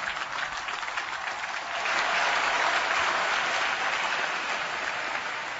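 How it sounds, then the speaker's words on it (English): An audience at a graduation ceremony breaks into sustained applause, steady clapping that swells partway through and holds at a full, even level. "Let's give our graduates a tremendous round of applause."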